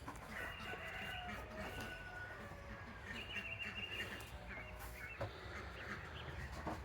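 Farmyard chickens kept as rescue animals cluck and squawk in a busy, overlapping chorus at treat time, with a rooster's crow in the mix. The whole scene sounds fairly quiet and slightly distant.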